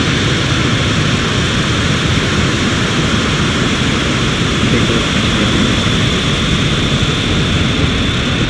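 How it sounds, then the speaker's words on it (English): A SpaceX Falcon rocket lifts off on a Starlink launch with its engines at full power, producing a loud, continuous, crackling broadband roar that stays constant throughout. "Engines full power. And liftoff of Starlink."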